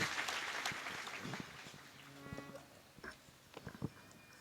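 Scattered applause at a felicitation during a religious birthday celebration for a swami fades from a steady wash into sparse individual claps, with a low tonal hum and faint voices beneath.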